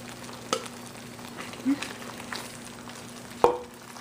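Onions fry in a pan for kuku paka, a Gujarati chicken dish, as a quiet, steady sizzle. A spoon stirs and scrapes now and then, with a few soft clinks.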